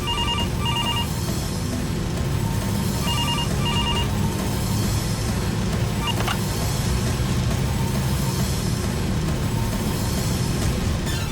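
A telephone rings in short double trills, repeating twice over a constant loud rumbling background like a running vehicle.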